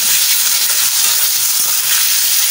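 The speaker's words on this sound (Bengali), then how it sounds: "আমি এখন মশলাটা দিয়ে দিব পেঁয়াজ বাটা আর জিরা বাটা" Onion and cumin paste frying in oil with already fried eggplant and potato, a steady close sizzle and hiss throughout with no pauses and no talking.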